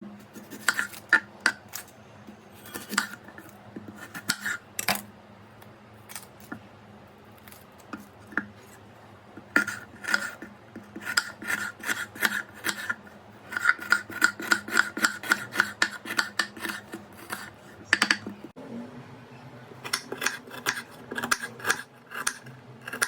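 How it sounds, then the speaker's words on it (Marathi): Knife chopping an onion on a board for lauki thalipith, with clusters of quick sharp cuts broken by short pauses, close and fairly loud, with no talking. "आता आपण कांदा कट करून घेऊया"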